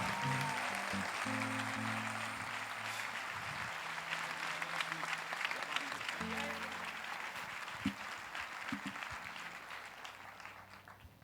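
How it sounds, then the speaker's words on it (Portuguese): A church congregation claps in loud, sustained applause that fills the room, with steady keyboard chords held underneath. The clapping thins slightly toward the end. "E eu quero que vocês possam dar uma salva de palmas a Jesus pelo pastor Joseph"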